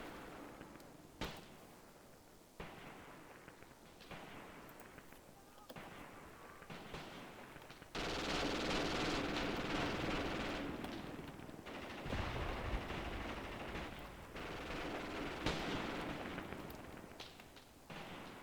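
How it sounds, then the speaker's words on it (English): Rifle and machine gun fire in a WW2 video game battle on the Donbas front, sharp single shots early giving way to dense, continuous loud bursts of fire, with game voices faintly mixed in. "These guys on the gun are down to firing with their rifles."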